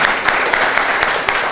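An audience at an invention bootcamp claps, a dense brief patter of hands with a few sharper individual claps standing out.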